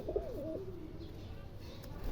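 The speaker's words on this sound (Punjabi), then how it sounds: "ਆ ਵੇਖੋ ਜੀ ਇੱਕ ਕਬੂਤਰ ਆ ਹੋਊਗਾ ਜੀ" A soft, low pigeon coo near the start, then quiet outdoor background hum.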